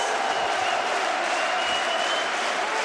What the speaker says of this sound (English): They are chanting Bogdan, Bogdan.